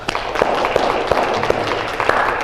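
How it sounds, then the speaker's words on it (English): Tai chi beginner's class clapping together at the end of class, a close, steady run of many hands clapping with audible individual strikes. "At the end, we clap."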